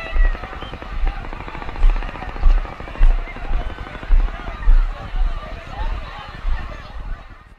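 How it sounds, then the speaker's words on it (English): Helicopters approach in a steady, rhythmic rotor thumping that pulses about twice a second, moderately loud, over background noise. "You hear the helicopters coming."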